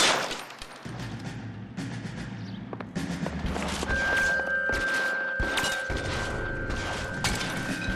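Rifle gunfire in the L.A. Noire video game: a series of sharp reports at irregular intervals amid mechanical clatter and a steady game tone, loud and fairly close.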